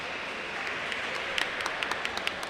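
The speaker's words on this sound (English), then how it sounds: "the crowd cheer him on for his valiant effort in that first quarter" Arena crowd at a men's team ball game applauding and cheering a player hopping off court injured, a steady distant wash of clapping with scattered sharper claps and whistles, no talk over it.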